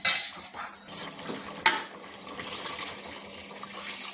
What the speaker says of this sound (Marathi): आता ते आपण गरम पाणी त्यामध्ये टाकायचं आणि छान शिजू घे शिजून घ्यायचं